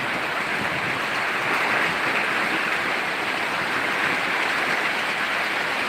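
Heavy rain pouring down in Sirajganj, Bangladesh, after an intense heatwave, a dense rushing wash of water that stays loud and even for several seconds.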